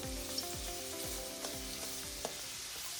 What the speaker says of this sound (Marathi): तेल गरम झालेलं आहे. त्यामध्ये आता आपण वाटून घेतलेला लसूण घातलाय.